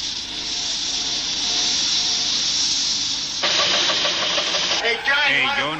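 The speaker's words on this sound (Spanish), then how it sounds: "los maquinistas descubren que las máquinas a vapor pueden llegar a ser bestias quisquillosas" A model steam locomotive engine runs with a strong steady hiss of steam, then breaks into rapid rhythmic chuffing and mechanical knocking, loud and close.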